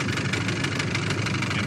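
A fishing boat's outboard motor idles steadily with a low, even chugging throb, close and continuous with no talk.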